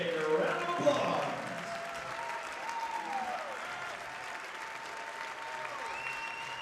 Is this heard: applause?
yes